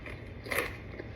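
A single crisp crunch as someone bites into chips made entirely from chicken, a brief close burst mid-clip over a low steady background.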